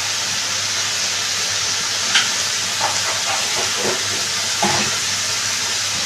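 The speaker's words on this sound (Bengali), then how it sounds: "আবারও এটাকে আমি ভালো করে কষিয়ে নিচ্ছি।" Ground spices (cumin, chili, coriander powder and turmeric) sautéing in a pan for dhaba-style egg tadka, giving a steady, close hiss of frying with a few faint stirring clinks and scrapes.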